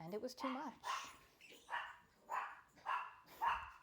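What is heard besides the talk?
dogs barking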